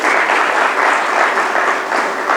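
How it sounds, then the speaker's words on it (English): An audience at a corporate event claps for a gentleman in a short, steady burst of dense applause, fairly close and loud, without speech. "You must clap for this gentleman."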